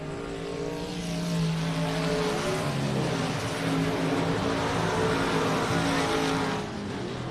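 The engine of the No. 53 race car at South Texas Race Ranch over-revs after something breaks on the front straightaway during a memorial race. It makes a loud, sustained, buzzing drone that swells and climbs in pitch, close and unbroken by talk.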